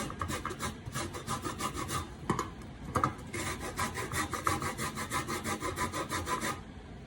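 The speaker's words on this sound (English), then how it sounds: "I'm going to use this and I'm going to scrape it and get some orange zest." An orange is scraped back and forth on a grater for zest, a steady series of close, rhythmic rasping strokes with brief pauses, no talking.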